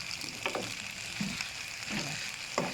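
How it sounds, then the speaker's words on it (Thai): Wide rice noodles and pork stir-fry in a pan in a home kitchen, with a steady close sizzle and a few scraping, tossing strokes of the spatula spaced through it; no one speaks. "ผัดให้มันเข้าที่ให้มันนิ่ม"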